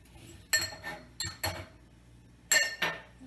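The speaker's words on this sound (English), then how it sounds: "here's another glass that'll go on the top shelf" Glass and ceramic dishes clink and clatter in a few sharp bursts while a dishwasher is loaded with a glass, plates and bowls, close and moderately loud with quiet gaps between.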